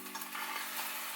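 An egg frying in a pan gives off a steady, soft sizzle with a faint crackle, close and unbroken for a brief moment with no talking.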